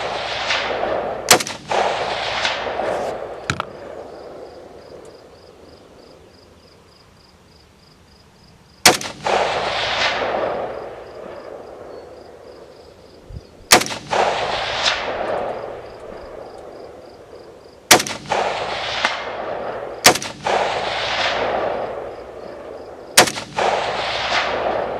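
Ruger Precision rifle fired at long range outdoors on the 4th of July, a series of sharp, loud gunshots spaced a few seconds apart, each cracking and then rolling off in a long echoing tail.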